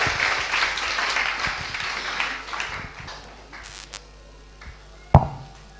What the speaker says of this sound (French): Acclamez pour le Saint-Esprit.